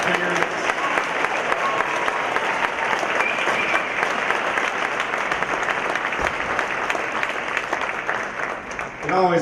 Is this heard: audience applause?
yes